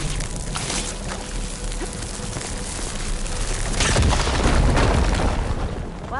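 A firegleam blast explodes in the Horizon Forbidden West video game: loud, dense rumbling debris and crackle that swells into a heavier booming roar midway, with no talk over it.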